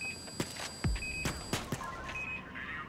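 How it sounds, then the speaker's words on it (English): An alarm in the video game Payday 2, during the Framing Frame heist, gives short repeated electronic beeps over a steady tonal hum, with sharp in-game thuds and clatter scattered around it. "That's the alarm!"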